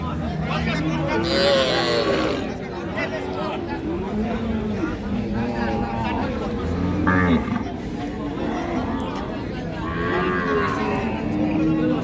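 A calf of Sahiwal-cross cattle lows repeatedly with drawn-out moos, close and clear, at a cattle market, while several people chatter in the background throughout.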